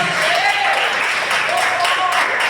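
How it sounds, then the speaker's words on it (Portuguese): Church congregation clapping in praise during a worship service, a dense continuous round of applause with a voice talking over it throughout. "Então exalte o Senhor com as suas palmas"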